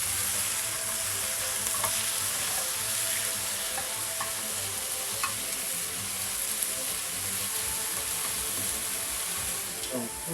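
Breakfast food fries in a pan after being flipped, giving a continuous moderate sizzle with a few light clicks and ticks over it, steady and nearby with no one talking.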